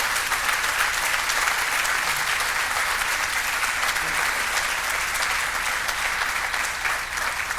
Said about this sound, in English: let's give a huge round of applause to my great friend, Brian Higgins